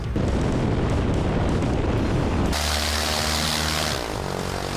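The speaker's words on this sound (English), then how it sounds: "it's got enough power to pull the airplane on even though I'm pulling back on the brakes" A light airplane's propeller engine, parked for years, roars at high power during a run-up against the brakes, loud and continuous, with its pitch and tone shifting partway through.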